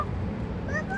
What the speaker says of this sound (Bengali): বিড়াল, কত বড় বিড়াল।